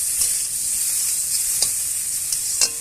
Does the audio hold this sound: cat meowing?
no